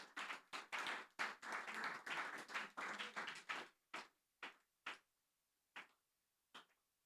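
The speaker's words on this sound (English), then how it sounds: "They were just clapping because they know her." Audience at a literature prize press conference applauds, starting as a brisk patter of several people clapping, then thinning to a few isolated, spaced-out claps before fading to quiet.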